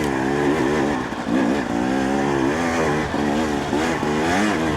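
A motorcycle on slick, dry single-track trail, revving and easing off with small throttle inputs; the engine note rises and falls steadily and sits loud and close throughout, with no talking.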